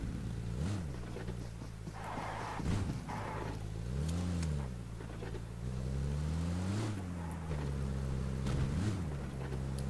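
A steady engine drone runs throughout, rising and falling in pitch as a car in PUBG Mobile revs and shifts, with a rough, continuous rumble.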